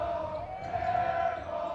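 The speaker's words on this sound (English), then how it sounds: "Brutal crowd chanting air ball." A high school basketball gym crowd, Gig Harbor Tides against SKHS Wolves, chants in unison with a sustained, sing-song vocal drone filling the arena, moderately loud and steady.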